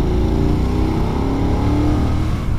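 A BMW F900R twin-cylinder motorcycle pulls hard in fourth gear from around 2,500 rpm, a loud, close, steady engine drone rising gradually in pitch with no talk over it.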